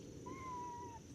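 A cat meows once in a long, drawn-out cry in a garden in Georgia, fairly clear above a low background hum, with no talking.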